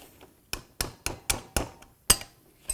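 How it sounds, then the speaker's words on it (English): Metal brake hardware tins being pried and tapped off a caliper bracket on a 2007-17 Ford Expedition front brake, giving seven sharp, close metallic clanks at irregular intervals with quiet gaps between them. "we're going to come along here and we're going to remove these tins"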